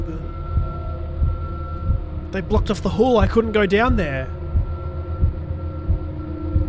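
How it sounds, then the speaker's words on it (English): A steady, low heartbeat thumps rhythmically through the horror video game Smol Scares: The Karaoke, continuing beneath a stretch of nervous player talk. "the heartbeat's getting louder"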